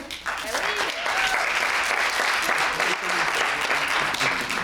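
An improv show audience claps in a dense, continuous burst, loud and even for several seconds, with some voices mixed into the crowd noise.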